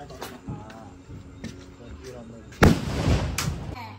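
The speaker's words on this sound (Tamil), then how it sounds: "எல்லாரும் பட்டாசு அடிச்சிட்டு இருக்காங்க," Diwali firecrackers bursting in a village, with sharp pops and bangs. One loud nearby blast is followed by crackling, with scattered reports further off.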